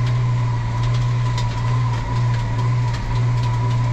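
A tractor engine pulls a stubble cultivator over ploughed ground, making a steady, loud low drone with a constant pitch and faint rattling, heard close with no talk.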